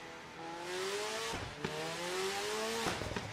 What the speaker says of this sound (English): It sounds like an old Dallara F3 car, which makes sense.